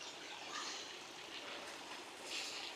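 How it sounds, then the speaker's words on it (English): Water runs down a steep combe in the Mendip Hills toward a cave system, a faint, steady rushing and trickling wash heard alone with no talk. "here we have the water running down through this combe."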